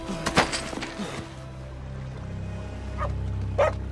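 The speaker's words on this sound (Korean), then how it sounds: "그때 독일군 앞에 나타난 아타미의 댕댕이" Dog barking in the Finnish war action film SISU: a few sharp, fairly close barks early on, then quieter yips later over a low rumbling background, with no talk.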